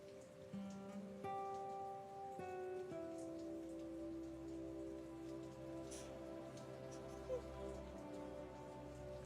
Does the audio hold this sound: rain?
yes